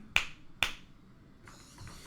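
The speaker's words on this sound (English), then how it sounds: "So if you clap once, he goes forward. If you clap twice, he goes backward." Two sharp hand claps, about half a second apart, used to command a small robot through its microphone; the claps are close and crisp, with quiet background between them and no talking.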